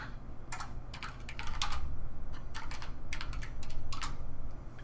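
Quick, close keystrokes come in short bursts of clicks on a computer keyboard while someone runs a Ctrl+F search for element type in ANSYS solution information.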